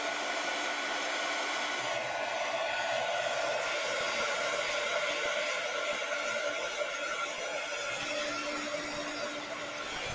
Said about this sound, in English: so what you do is you take your heat gun